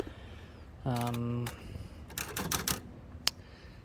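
A 1937 Royal O manual typewriter is typed on outdoors, with a ringing mechanical whir, then a quick run of sharp key strikes and one crisp clack near the end; faint voices mix into the background.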